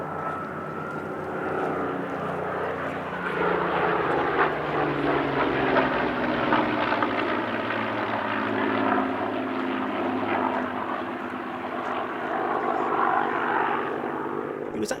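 Piston-engined propeller aircraft, including the Lancaster bomber, flying a two-ship airshow display, giving a steady, loud, continuous multi-engine drone with rising and falling pitch throughout, without speech.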